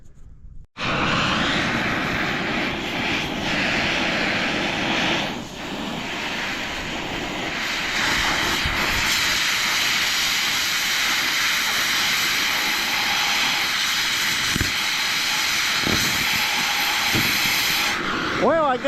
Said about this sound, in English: So we'll get the torch fired back up here.